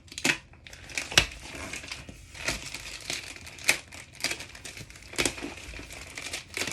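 Crinkly plastic packaging on a folding memory foam mattress is sliced and crushed by a paper cutter, giving close, irregular crackles and sharp snips with brief pauses and no talk.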